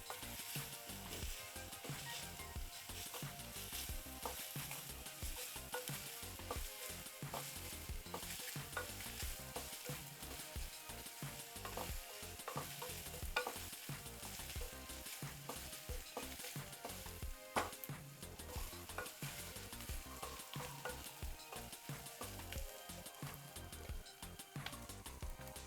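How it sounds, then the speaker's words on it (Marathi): Chopped onion fries in oil and is stirred in a pan, a continuous close sizzle broken by frequent scraping strokes for nearly half a minute, with no talking. "आता हा कांदा छान गुलाबी होईपर्यंत परतायचा आपल्याला."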